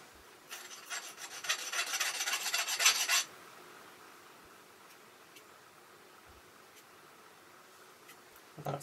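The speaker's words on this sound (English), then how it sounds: "Get rid of that burr." A hand file rasps a burr off a metal lathe tool post part in a few seconds of quick, scratchy back-and-forth strokes, followed by quiet with a few faint knocks.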